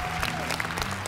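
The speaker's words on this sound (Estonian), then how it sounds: "Suur aplaus!" Audience applause at the close of an Estonian televised youth science competition show, steady dense clapping filling the whole short moment at even loudness with no voices over it.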